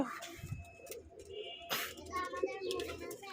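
A domestic pigeon coos softly nearby in a quiet space, low throaty calls with a few faint chirps and brief rustles mixed in.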